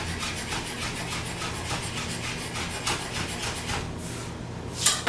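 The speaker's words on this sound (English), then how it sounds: "Trying to make my knife strokes really small and really close together so I can make sure that they're really finely chopped." A knife taps and scrapes rapidly on a cutting board as ingredients for an Italian sub sandwich are finely chopped, with close, continuous small strokes and a louder scrape near the end.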